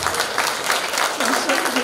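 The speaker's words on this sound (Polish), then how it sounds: "Jeszcze raz ogromne brawa." Audience applause after an amateur theatre group's performance at a Polish community culture centre, a brief burst of steady clapping with a voice speaking over it.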